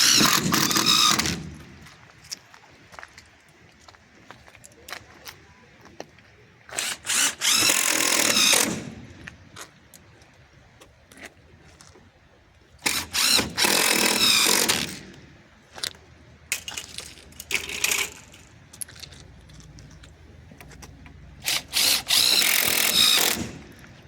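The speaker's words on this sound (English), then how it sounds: "we can come in and add some other screws about every 12, 16 inches or so" A power drill drives gasketed self-tapping screws into Lexan greenhouse sidewall panels. It comes as four loud whirring bursts, each a few seconds long, separated by quieter gaps.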